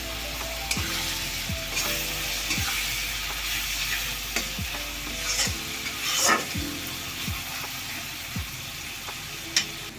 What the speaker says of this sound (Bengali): মশলাটা একটু কষিয়ে নেব সুন্দর করে।